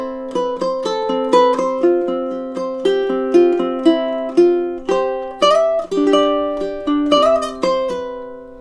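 Ukulele picking measures 7 and 8 of a piece, a flowing run of plucked notes over sustained lower tones, close and clear, a brief melodic phrase with no voices.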